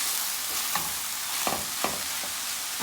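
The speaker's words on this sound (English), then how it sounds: "We're gonna mix that garlic in, and the garlic gives the salted fish another layer of flavor." Garlic being stirred into salted fish in a hot pan, with a steady sizzle of frying under a few soft, distinct scraping strokes of the utensil, close and alone without talk.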